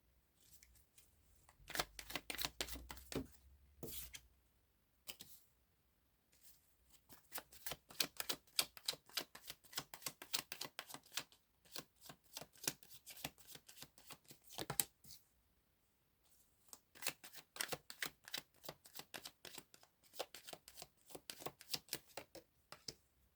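A deck of playing cards being shuffled, cards flying out, making rapid bursts of crisp riffling clicks in several long runs with brief pauses between, close and fairly quiet, with no talking.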